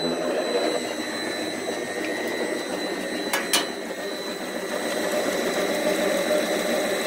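Bladeless saw motor, a single-phase capacitor motor on a variable frequency drive, spinning up with a steady rising mechanical hum and whine, with a couple of brief clicks midway.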